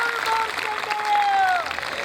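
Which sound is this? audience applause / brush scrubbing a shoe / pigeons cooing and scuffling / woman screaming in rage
audience applause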